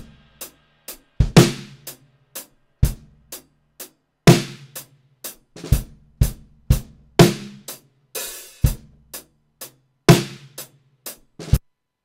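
Drum one-shot samples with an added room sample play in a sparse, uneven pattern of punchy kick and snare hits with crisp, cymbal-like strikes, each followed by a short room-like decay, loud and alone.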